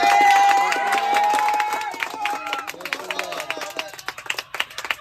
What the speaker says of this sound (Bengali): আমাদের দর্শক তাকে উৎসাহিত করো হাততালি দিয়ে।